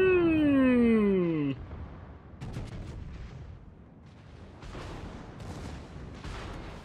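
Naval guns firing in the warship game World of Warships, a series of distant booming shots and rumbling impacts following a loud descending whistling tone, moderately loud and spread across the scene.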